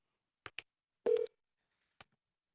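A Grandstream IP phone is dialed to reach extension 3000, giving a few short keypad beeps: two quick tones, a longer tone, then one more, each set against silence.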